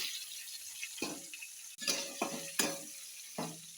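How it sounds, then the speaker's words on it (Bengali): Sliced onion sizzles in hot oil spiced with dried red chilies, cumin and coriander powder, with about five separate scraping stirs of a spoon against the pan, each stroke set off by brief pauses, close and alone without any voice. "পেঁয়াজটা এখন নেড়ে আমি লাল করব"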